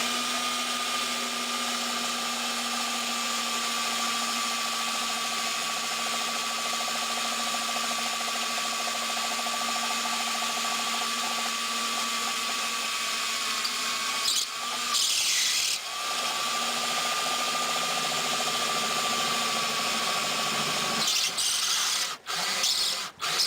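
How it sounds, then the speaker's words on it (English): A power drill runs continuously with a steady high whine, briefly straining and changing pitch as it bucks through a metal vending machine bottle rack, then settling again. "it was kind of bucking a little bit as it went through the, it went through this metal"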